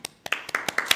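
A small group applauds at a Chilean Constitutional Convention subcommission session, giving a brief spatter of a few distinct, fairly faint hand claps in an indoor room.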